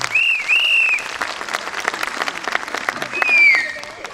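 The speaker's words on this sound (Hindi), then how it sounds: "मगर इन सब के लिए आपकी तालियों में थोड़ा जोर होना चाहिए।" Audience applause at a ladies' club evening of music, steady clapping across the whole stretch with a few whistles or whoops riding on top.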